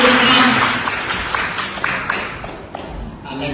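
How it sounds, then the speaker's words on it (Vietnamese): A church congregation applauds a visiting pastor from Vietnam with a dense wash of clapping from many hands across a large room, sustained and fairly loud, fading slightly toward the end. "Xin chúng ta cho một tràng vỗ tay cho mục sư Trương Quý từ Việt Nam."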